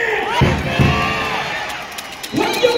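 A crowd of fans in a volleyball arena shouting the team name KB in chant bursts, with loud rhythmic calls separated by a lull of cheering, the voices strong and close.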